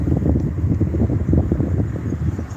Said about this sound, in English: It's starting to get damn cold and windy